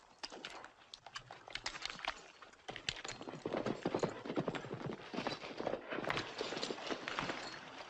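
Several horses walking in a classic Western scene, hooves clip-clopping in a steady, uneven patter that builds slightly louder toward the end, with no talking over it.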